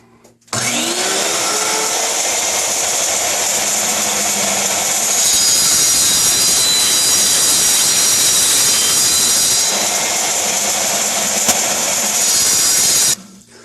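A circular saw on a jig cuts a shallow pass into wood to shape a ball, spinning up with a rising whine, then a loud, steady high-pitched cutting roar for about twelve seconds before stopping abruptly.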